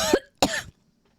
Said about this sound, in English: I'm coughing in your face like an iPad kid.